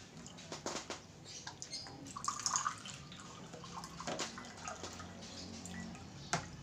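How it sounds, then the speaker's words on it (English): Hot water is poured at a meal of rice and siomai, a faint, steady watery trickle with scattered drips and splashes that runs throughout, with no voices. "Hot water."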